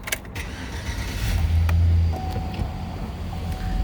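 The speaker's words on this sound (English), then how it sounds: "Go ahead and start it up." A 2007 Chevy Silverado 1500 Z71 pickup engine cranks and catches from inside the cab, a brief low rumble rising mid-clip over a steady background whir, then settling into a faint idle.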